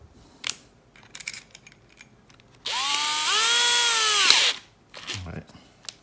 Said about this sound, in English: Now from that side, drill straight through on the other side.